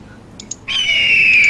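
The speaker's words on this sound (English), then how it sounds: "there's like a bird screeching this entire..." A bird sound effect in a tabletop roleplaying game stream: two faint chirps, then a sustained, piercing screech that starts abruptly and holds steady to the end.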